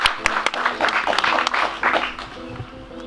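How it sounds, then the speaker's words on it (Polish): An audience at the close of a Jet Fish angling competition in Dębowa applauds the competitors with a burst of close, lively clapping that gradually thins and fades toward the end, with murmuring voices underneath. "nasze brawa dla Was"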